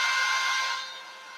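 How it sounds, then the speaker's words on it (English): A CNC router spindle cutting a guitar body runs as a loud, steady whine that fades partway through the short burst, with no talk over it. "Okay, the router's running, and I'm going to tell it to go"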